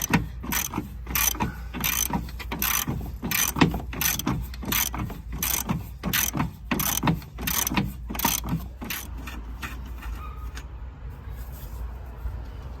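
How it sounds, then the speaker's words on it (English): Ratchet with a deep well socket backing out a 15 mm strut nut on a 2013 Dodge Journey, a series of sharp, evenly spaced clicking bursts close up that thin out and stop toward the end. "I'm just going to go ahead and take that nut out of there, that 15 millimeter."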